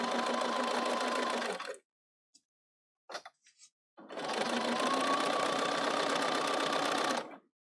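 A Bernina 770 sewing machine runs a scant quarter-inch seam through quilted layers with soft and stable, in two sustained loud bursts of stitching separated by a pause with a few small clicks.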